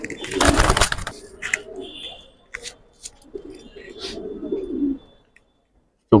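Pigeons coo close by in a pet pigeon sale setting, several soft throaty coos spaced across the moment, alongside brief rustles, wing flaps and a loud burst of handling noise at the start.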